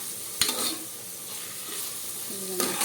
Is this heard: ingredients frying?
yes